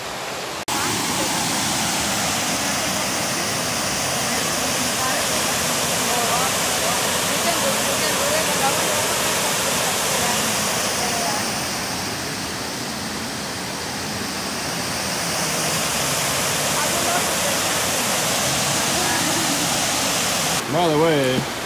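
A waterfall in Chattanooga roars in a steady, loud wash of rushing water that dips briefly in the middle, with a faint voice buried underneath.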